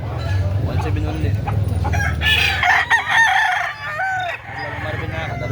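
A gamecock crows once loudly and close by in a drawn-out, wavering call, preceded by low clucking and farmyard rumble.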